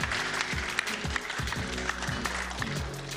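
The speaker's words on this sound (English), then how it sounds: "Can I get a round of applause for these folks?" Audience applause for conference panelists at a Web3 event, a moderate, steady patter of clapping heard over a low humming background with occasional louder claps.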